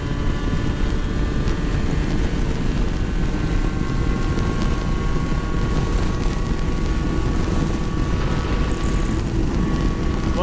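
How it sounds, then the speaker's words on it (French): A TDR 125cc motorcycle engine drones loudly and steadily under heavy wind rush while riding at speed, a constant roar with a few high whining tones running through. "Le moteur il gueule."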